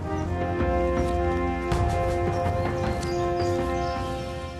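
A horse gallops in a steady run of clip-clopping hooves, loud and continuous over a background of music.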